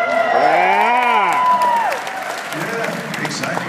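Convention crowd at Salt Lake Comic Con applauding and cheering loudly and steadily throughout, with whoops and a voice talking over the noise.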